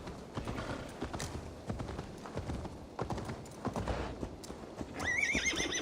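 Horse hooves gallop in a steady clattering rhythm in Assassin's Creed Valhalla, with a whinny near the end, loud and close over game ambience.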